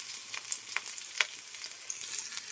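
Green chilies and onion fry in a pan with a steady, hissing sizzle, broken by occasional crackles and soft stirring scrapes, close and even throughout, with no voices.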